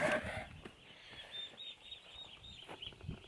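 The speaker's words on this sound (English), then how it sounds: "So we got some turkeys, we got some ducks, we got some chickens." Faint clucking and squawks from farm chickens kept alongside turkeys and ducks, several short calls scattered over a quiet background, one brief louder cry at the start.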